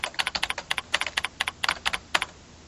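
Someone types on a computer keyboard, tapping out about a dozen crisp, quick keystrokes in an uneven rhythm. The taps are close and fairly quiet, with no other sound.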